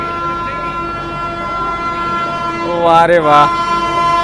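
The Banaras Rajdhani Express rushes past with a steady rumbling roar, then sounds a loud, wavering horn blast near the end while a man exclaims excitedly.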